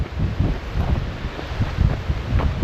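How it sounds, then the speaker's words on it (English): Gusty wind buffets the microphone with low, rumbling bursts that rise and fall continuously, close and fairly loud. "Bit windy this morning"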